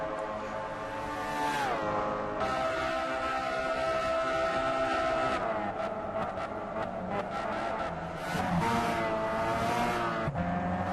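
Race cars lapping Monza in Gran Turismo 6 give a steady, loud engine drone. Several cars run close together, with pitch rising and falling through gear changes and passes.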